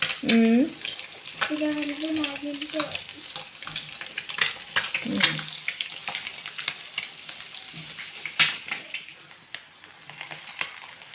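Eggs frying in a pan, giving a close, crackling sizzle with scattered pops and utensil clatter, while voices speak over it briefly near the start and mid-way.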